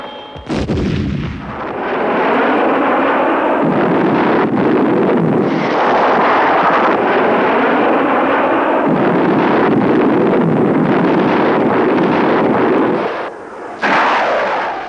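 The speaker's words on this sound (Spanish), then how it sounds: "Esta es una demostración en un ejercicio de tiro sobre un blanco remolcado." A loud, sustained roaring blast of rockets fired from a Sea Harrier at a towed target, in rapid succession, with crackling bursts that fill the air, then a brief lull and another roar.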